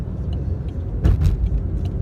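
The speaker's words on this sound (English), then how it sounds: "I didn't expect this traffic" Freeway traffic near Tolleson rumbles steadily from inside a car, a low continuous drone with a couple of passing swells from nearby vehicles.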